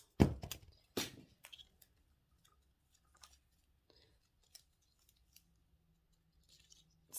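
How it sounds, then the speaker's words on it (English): Scissors snipping paper while making paper flowers, two or three sharp close cuts at the start followed by quiet, sparse clicks and small handling taps. "Oh, might need my scissors."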